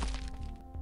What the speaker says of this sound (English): Oh, that's a big bomb.